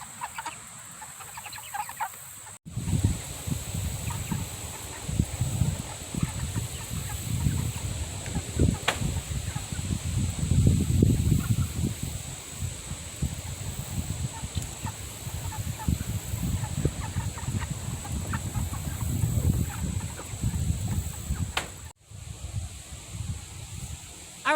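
Chickens cluck and murmur steadily in a flock, a continuous low busy chatter with occasional louder calls, fairly close.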